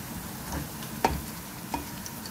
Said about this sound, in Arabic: نضع الثوم ونتركه يأخذ لون ذهبي، طبعا لون ذهبي خفيف، لا تتركوا الثوم يحترق